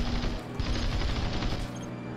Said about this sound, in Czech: Ty zvuky těch kanónů.